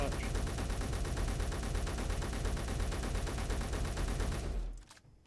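Continuous rapid small arms gunfire in a video game, a loud unbroken rattle of shots for about four and a half seconds that then cuts off abruptly into near silence.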